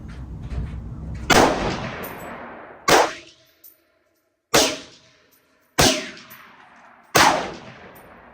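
A Springfield M1A Squad Scout rifle fires five loud, close shots, each with a sharp crack and a long ringing decay into an outdoor range, spaced about one to one and a half seconds apart.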